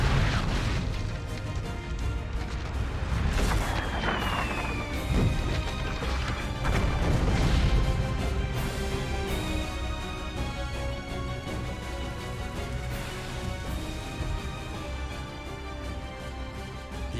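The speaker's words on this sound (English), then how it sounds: "Prepare to run out the guns. On my command, fire!" A cannon volley roars out in the battle game Shogun 2, with several heavy booms and crashes rolling over one another amid dense, loud battle noise and music throughout.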